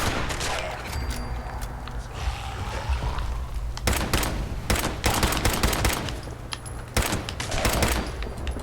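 Gunfire in the Fallout 76 game: scattered sharp shots and short volleys at irregular intervals over a steady ambient hum, moderately loud and close.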